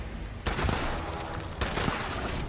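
Explosive pump-action shotgun in Fallout 76 fires two booming blasts about a second apart, each a loud broadband crack with a rumbling tail over continuous game noise.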